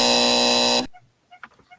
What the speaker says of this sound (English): We got a buzzer there.